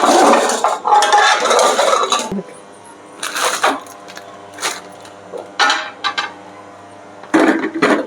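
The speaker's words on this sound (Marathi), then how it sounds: "हे व्यवस्थित मिक्स करूया ग्रिल करण्यासाठी." A vegetable sandwich filling is stirred in a bowl in several loud bursts of spoon-on-bowl scraping and clinking, separated by short pauses.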